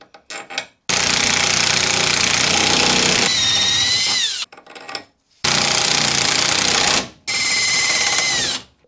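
Impact wrench loudly driving ARP extended wheel studs into a Mazda MX5 Miata front hub, in three long hammering bursts broken by short pauses, each burst ending as the pitch shifts once a stud seats fully.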